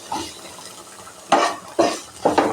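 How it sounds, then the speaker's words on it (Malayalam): Spice paste stirred in a pan, heard as three short scraping bursts of a spoon or spatula against the metal, close and fairly loud, between quiet pauses. "ഇനി നമുക്ക് ഈ അരപ്പ് നല്ലോണം അങ്ങോട്ട് ഇളക്കാം"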